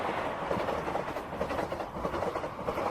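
A passing train rumbles steadily with a rhythmic clickety-clack of its wagons on the rails, loud and close throughout, with no voices.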